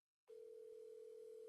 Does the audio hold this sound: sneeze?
no